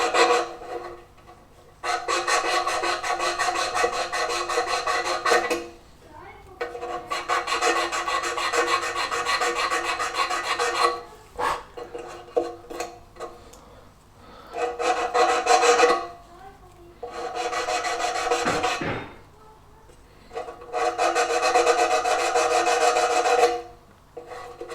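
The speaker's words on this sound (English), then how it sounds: "so I'm just going to give it a light sanding" Light sanding of a powder-coated accelerator part for a classic Fiat 500, close rasping strokes in several long bursts separated by short pauses and a few knocks.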